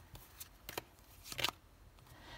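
A tarot card drawn from the deck and laid down, a few soft papery flicks and slides close by in a quiet room.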